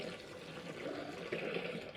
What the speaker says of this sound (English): I'm gonna go ahead and pour half of it down one side